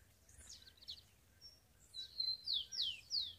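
A rufous-collared sparrow sings outdoors in a series of thin, high, descending whistled notes, sparse and faint at first, then closer and louder in a quick run toward the end.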